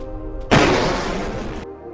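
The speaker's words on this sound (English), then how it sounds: "you'll be able to hear the firing sounds" A weapon in the indie game Solar Corp fires with one sudden booming burst that sustains as a dense noisy blast for about a second before cutting off abruptly.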